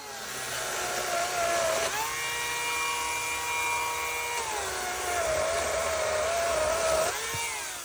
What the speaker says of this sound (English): This is the Chainsaw by Senix.